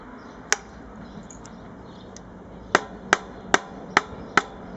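Sharp metallic snips trimming the end of a fret on a handmade acoustic cigar-box guitar: one isolated click, then a quick run of five crisp cuts spaced evenly, close and fairly loud over a quiet room.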